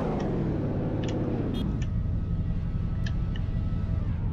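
A Lamborghini Gallardo engine in the Roblox game Greenville drones steadily, its pitch falling as the car slows, with a few faint clicks on top.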